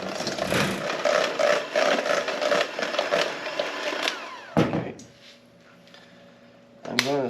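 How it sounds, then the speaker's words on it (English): An electric mixer beats a cheese and egg filling for blackberry cheese squares, whirring loudly and steadily for several seconds before cutting out to a faint hum, followed by a brief clatter at the end. "Then I'm gonna mix again. I want that to become very creamy."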